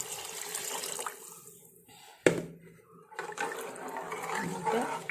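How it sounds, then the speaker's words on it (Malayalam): Water poured into rice in a pot for mutton biryani, a close gurgling rush that swells and breaks off, with a clatter midway and more flowing water after, no voices. "അതിൻ്റെ ഇരട്ടി വെള്ളം ഒഴിച്ചു കൊടുക്കണം"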